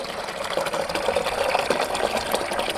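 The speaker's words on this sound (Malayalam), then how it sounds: "ഇതിലേക്കൊന്ന് വെള്ളം ഒഴിക്കാം" Water poured into a tin for a fish tank overflow system demonstration, a steady continuous splashing gush that stays close and even throughout.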